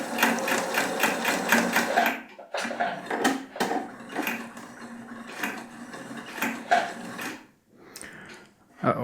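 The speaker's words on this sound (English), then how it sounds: "I really quite appreciate the noise sewing machines make while working." A Husqvarna Topaz 25 sewing machine stitches in steady, fast mechanical bursts, whirring and clattering up close, with a couple of brief stops and restarts between runs.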